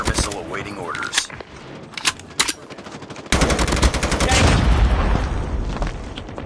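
Automatic gunfire in the mobile shooter Call of Duty Mobile: sharp separate shots early on, then a sustained loud burst of rapid fire from about three seconds on, with game voice lines mixed in.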